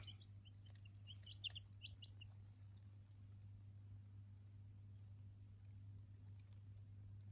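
Chickens cluck softly in a brief cluster near the start, then fall quiet over a loud steady electrical hum from a brooder light, with no voices.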